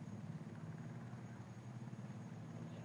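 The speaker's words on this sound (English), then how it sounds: "Look at the helicopter. It's like parked right up front. He's hovering over in front of us." Helicopter hovering near the grid in the F1 24 racing game: a steady, throbbing rotor drone with a low pulsing beat, fairly quiet and continuous, and no talking heard.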